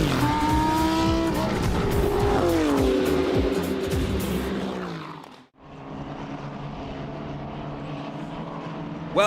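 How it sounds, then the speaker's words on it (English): GT race cars in a winter series round at the Valencia circuit scream past with high revving engines, a loud pass that fades sharply before another engine drone rises again. "We are underway and racing in the GT Winter Series"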